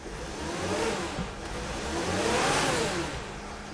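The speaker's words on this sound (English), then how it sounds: "the engine is running. I'm gonna rev it up a little bit." Mercedes Sprinter van engine running rough with a cylinder misfire, revved up steadily so its broadband roar swells and holds loud and close throughout, without speech.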